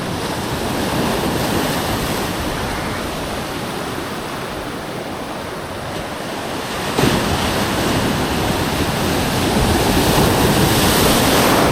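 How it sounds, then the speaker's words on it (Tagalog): Strong ocean waves break on a fishing shore in a continuous roaring wash. The surge is loud and close, with wind buffeting the microphone and a louder swell near the end. "Lakas ng alon."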